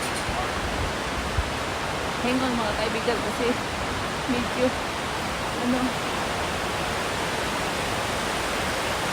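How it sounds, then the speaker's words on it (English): Skógafoss waterfall, fed by melting snow, gives a steady, dense roar that fills the whole scene. Someone speaks briefly over the constant rush of water. "Dyan yung waterfalls mga kaibigan oh."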